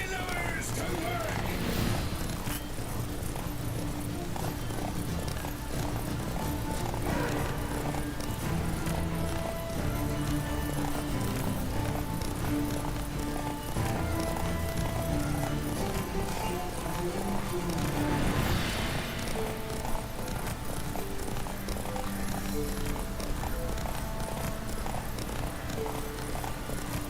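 Roach, a horse in the video game The Witcher 3, gallops with a steady rhythmic clip-clop of hooves that runs throughout under game voices and background sound at a moderate level.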